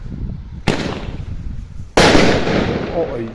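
Fireworks are shot off outdoors: two loud, sharp bangs about a second apart, each followed by a crackling, rumbling tail, with a faint voice near the end.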